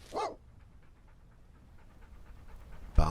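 Dog panting in the video game Fallout London: a breathy burst opens, soft rhythmic panting pulses run underneath, and a sharper sound cuts in at the end.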